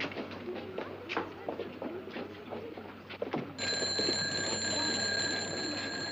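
A telephone bell begins ringing midway, bright and continuous, after a stretch of rustling and movement sounds in a 1950s film scene.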